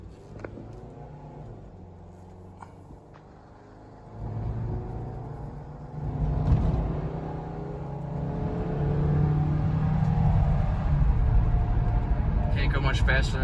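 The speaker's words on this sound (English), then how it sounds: "I'm gonna shut it off for a minute so you can hear the motor." A 2010 Subaru Forester engine hums and rumbles while driving, rising steadily in loudness as the car gathers speed, with a voice talking over it.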